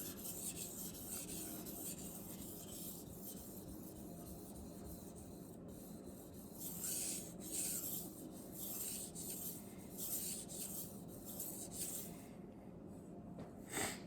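A Messermeister Meridian Elite knife being sharpened on a whetstone with light pressure, a steady continuous gritty rasp of steel on stone, close and fairly quiet, with subtle swells as the strokes change and no talk.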